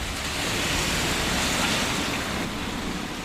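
Rain falls steadily over a village as a dense, continuous hiss that stays even and fairly close from start to finish.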